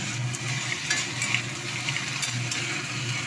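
Panch phoron spices sizzle in hot oil in a pan before pui shak greens are added, a steady close crackle with occasional stirring scrapes and no talk.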